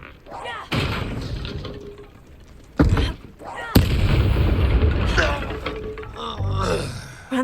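In Hogwarts Legacy, the Confringo explosive spell lands as heavy booming blasts, several sudden thuds spaced apart amid combat noise, with voices speaking around them.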